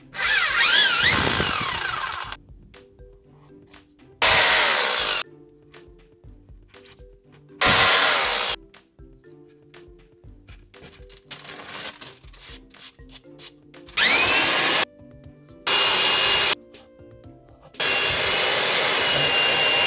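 A power drill bores into a wall in a home setting to hang a curved TV mount in a corner. Loud, harsh grinding bursts start and stop repeatedly with silent pauses between them, close by and with no one talking.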